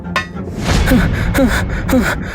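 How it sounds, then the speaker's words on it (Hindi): A voice actor playing a soldier in an animated story pants hard and out of breath, with three or four loud, close, rasping gasps in a heavy rhythm. "तभी एक सैनिक हांफता हुआ भीतर आया।"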